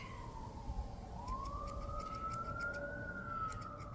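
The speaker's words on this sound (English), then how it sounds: "if you hear sirens, there's a firehouse like 5 minutes away from us" A distant fire engine siren wails in a slow rising and falling tone, faint and steady behind quiet background noise.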